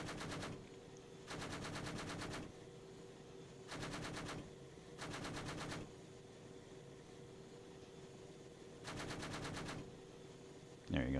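Helicopter cannon fire from an Apache gunship in a video game, five separate bursts of rapid, evenly spaced rounds separated by pauses over a steady low rotor drone.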